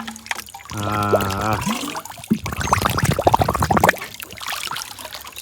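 Chilled mineral water pours from a water tank straight into a bottle, a steady trickling stream that runs for a few seconds and then breaks into splashy gurgles as the bottle fills; a voice says a brief word.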